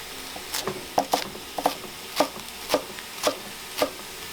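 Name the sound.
knife cutting bok choy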